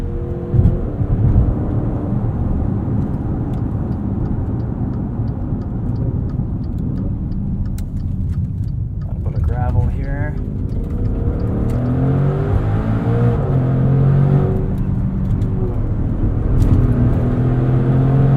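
A 2021 Maserati Levante SUV in Corsa mode takes a corner, its engine holding a steady, loud, throaty drone from start to finish with a brief rising swell about halfway through. No one speaks.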